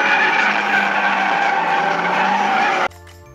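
Tires squeal in a long, loud skid as a four-wheel-drive hot hatchback slides in drift mode, the screech cutting off abruptly near the end.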